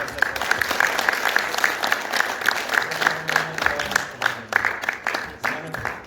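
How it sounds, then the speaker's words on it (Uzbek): An audience at a school concert program gives steady, dense applause, with many hands clapping close by in an even rhythm, and a voice heard briefly partway through. "Ha, qarsak bo'lsin."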